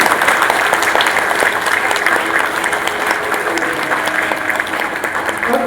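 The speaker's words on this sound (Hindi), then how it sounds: "बात अगर अच्छी लगी हो तो मैं चाहूँगा कि एक बार ताली बजा दे" Loud, sustained applause from a crowd at a Jagannath katha gathering, a dense continuous clapping that holds steady from start to finish, with no voices over it.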